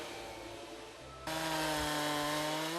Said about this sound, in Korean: 고요한 이곳에 요란한 톱질 소리만 반복된다